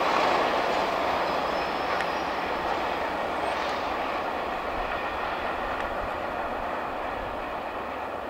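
Several freight trains meeting, including Norfolk Southern 28B, rumble past in a steady, continuous roar, with faint wheel clatter and occasional high squeals, fading slightly toward the end.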